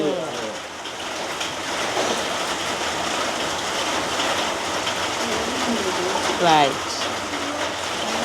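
Rain falling steadily in a village setting, a continuous hissing wash that stays even throughout, with faint background sounds and no clear speech over it.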